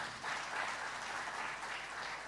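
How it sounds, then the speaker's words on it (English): An audience at a regional address applauds the Executive Secretary, a thick, even wash of many hands clapping at once, steady and somewhat distant with no voice on top. "So please clap for him again."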